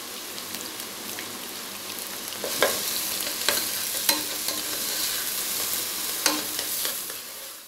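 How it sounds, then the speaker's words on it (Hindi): Garlic and onion frying in about a quarter cup of oil, a continuous rain-like sizzle close up, broken by occasional sharp spoon clicks against the pan. "वन फोर कप ऑयल मैंने डाला है और लहसुन और प्याज इसको हल्का ब्राउन करना है"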